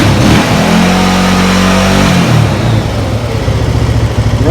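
A Honda Rubicon 500 ATV with a running fault revs up under throttle, its engine loud and close, the pitch climbing and falling with a rough, pulsing exhaust note and no talk.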